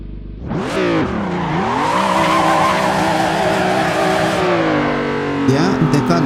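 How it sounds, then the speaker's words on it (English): A car drifting in a sim racing game on an Asetek SimSports setup with automatic gears: a loud, near engine revs and holds high while tires squeal continuously through the slide, with a brief scrape toward the end. "let's do a little bit of drifting if I can remember"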